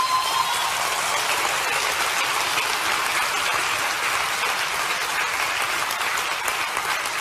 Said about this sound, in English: Shouldn't you give God a good clap, thanksgiving?